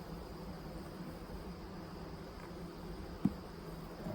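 Honey bees buzz around an opened hive during a spring split, a faint, steady droning hum with a single brief tap near the end.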